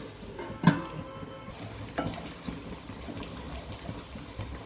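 Chopped onions sizzling in a hot pan for a curry, a steady soft frying hiss with a sharp clink of utensil or lid near the start and a few light stirring knocks after.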